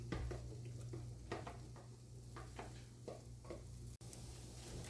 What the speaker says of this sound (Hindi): देसी घी के साथ नहीं, माजरीन के साथ हमारा आलू वाला पराठा बन के तैयार होगा